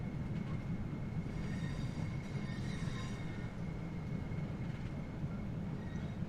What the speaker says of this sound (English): We're going to put a little bit of power into the train to get back up to 30